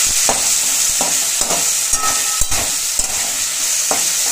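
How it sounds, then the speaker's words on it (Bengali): Peas, tomato and green chilli fry in a wok, a close, constant sizzle broken by sharp scraping knocks as a spoon stirs the pan every half second or so. "এবারে আরেকটু ভাজা ভাজা করবো।"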